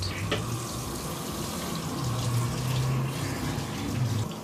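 Lukewarm water running over hair during a shampoo rinse, a soft continuous splashing flow of water that is faint and fairly steady, heard alone.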